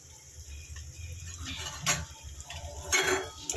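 A spoon stirs chopped tomato with turmeric, salt and garam masala in a pan, giving soft scraping and a couple of clinks of metal against the pan, close up amid low background noise.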